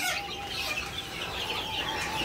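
A crowd of about 125 young chickens in a coop clucks and chirps continuously, their overlapping calls forming a dense, steady chatter close by.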